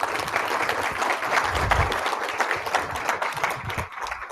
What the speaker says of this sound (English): please join me in thanking our speakers with a round of applause.